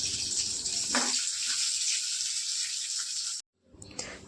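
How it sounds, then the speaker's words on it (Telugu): Water is poured onto tamarind in a cooking pan, a steady close hiss of liquid filling the vessel that runs for several seconds and then cuts off abruptly, followed by faint kitchen clatter. "దాంట్లో కొన్ని వాటర్ పోసి వేడి చేస్తాను."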